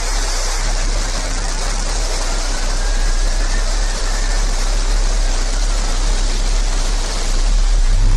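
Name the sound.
New Shepard rocket engine ignition and liftoff roar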